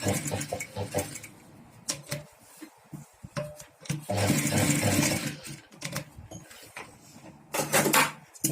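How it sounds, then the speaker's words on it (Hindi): Sewing machine stitching two-colour bandhani dress material for a neck pattern, running in short intermittent bursts with one longer continuous run, with wooden rubbing and handling noises between stitches and no talking. "अब यहाँ पे एक सिलाई और लगा देंगे।"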